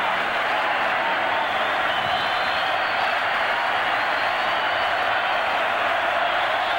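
Football stadium crowd at a college game between Oregon State and LSU, a broad, steady roar of cheering voices filling the air continuously, distant and dense without letting up.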